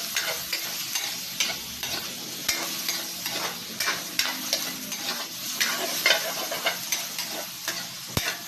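Pork skin frying over low heat to render its fat for pork menudo, a steady close crackling sizzle with scraping stirs throughout and no talking.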